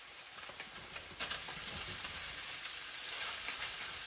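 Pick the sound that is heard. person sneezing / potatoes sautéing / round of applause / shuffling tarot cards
potatoes sautéing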